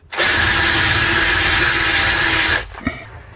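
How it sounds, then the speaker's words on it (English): A power drill countersinks a hole during a shower build, whining loud and steady for about two and a half seconds before stopping abruptly, followed by a brief clunk. "So I'm just going to countersink it at this side"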